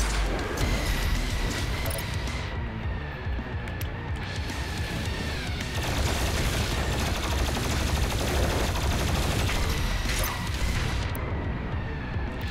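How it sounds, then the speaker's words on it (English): A chain gun fires continuously in the game Doom Eternal. Rapid, dense shots merge into one loud grinding roar with crashes and explosions throughout, and a voice talks over the din. "Chain gun. I love this chain gun."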